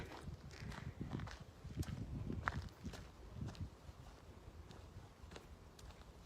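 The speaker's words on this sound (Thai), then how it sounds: "ก็จะได้ยินเสียงเดินร่วมทางอยู่นะคะทุกคนค่ะ" Several people walk together along an outdoor nature path. Their footsteps land as faint, irregular crunches and taps, with soft wind noise in the background.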